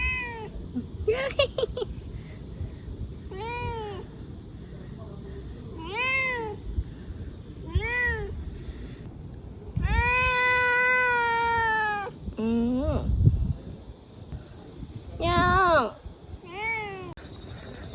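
A cat meows repeatedly, a dozen or so drawn-out, rising and falling cries spaced a second or two apart, with one long, loud wail midway.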